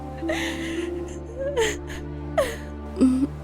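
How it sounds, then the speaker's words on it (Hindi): A girl cries and whimpers in several short, rising sobbing bursts over a steady low background hum, fairly close and moderately loud. "तभी एक लड़की के जोर जोर से रोने की आवाज आने लगी"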